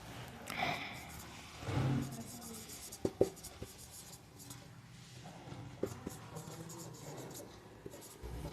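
Chalk or marker scratches and taps across a board during an English grammar lecture, a series of short strokes with faint breathing and room noise between them.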